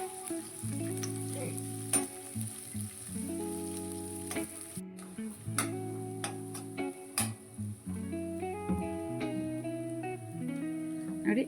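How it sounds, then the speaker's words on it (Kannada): Chopped onions fry in hot oil in a pan for egg rice, a steady sizzle punctuated by repeated clattering scrapes and knocks of a spoon stirring against the pan. "ನೀಟಾಗಿ ಮಿಕ್ಸ್ ಮಾಡಿಕೊಂಡು ಬ್ರೌನ್ ಕಲರ್ ಬರೋವರೆಗೂ ಹುರ್ಕೊಳ್ಳೋಣ ಈರುಳ್ಳಿನ"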